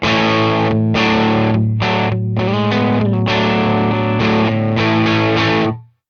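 A slightly distorted electric guitar with no pedals, recorded direct, strums a sequence of chords, each ringing briefly before the next, then fades out at the end.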